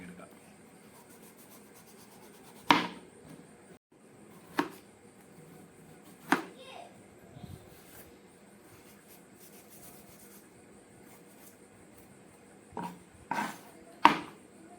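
A knife scrapes and chops at guava skin while the fruit is being peeled for a fruit salad: a handful of sharp, isolated cuts spaced several seconds apart, close and crisp over a quiet background.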